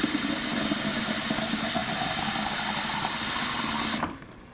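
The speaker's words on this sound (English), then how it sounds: "So we'll add some water." Water poured into a jar of broccoli sprouting seeds, a steady close splashing rush that runs for about four seconds and then stops abruptly.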